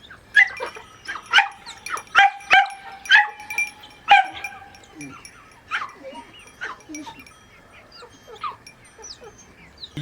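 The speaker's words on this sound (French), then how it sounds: "Pixie est vraiment une chienne hyperactive." A hyperactive female dog lets out a rapid, close run of sharp barks and yips in a garden. The barking then thins out into softer, scattered yelps and whimpers, with no one speaking.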